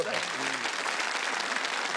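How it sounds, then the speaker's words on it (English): A TV studio audience on the 1987 game show 3-2-1 applauds in a full, steady burst of clapping; a voice is briefly heard at the start before the applause takes over. "Give them a great round of applause, folks."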